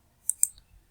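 Two quick, sharp computer-mouse clicks close to the microphone, a brief double tap in a quiet room while a circuit is built in the Multisim online electronics simulator.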